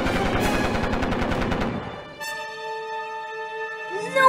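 Machine gun fire in a Portuguese-language animated story: a dense, rapid burst of shots for about two seconds, then a sustained ringing tone.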